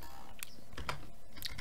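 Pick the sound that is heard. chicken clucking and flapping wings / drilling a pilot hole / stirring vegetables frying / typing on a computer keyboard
typing on a computer keyboard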